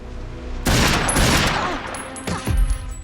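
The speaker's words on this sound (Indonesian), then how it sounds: "tiba-tiba mereka ditembak oleh seseorang" Gunfire in an action film scene, a sudden loud burst of shots that rings out for a couple of seconds, followed by a second sharp burst near the end.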